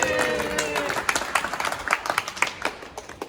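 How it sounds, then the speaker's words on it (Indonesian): Classroom applause during an electrical circuits practical, with a burst of many hands clapping in quick, uneven rhythm that continues steadily for a few seconds beneath a little background chatter. "Tepuk tangan dong."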